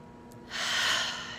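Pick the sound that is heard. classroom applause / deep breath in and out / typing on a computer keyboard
deep breath in and out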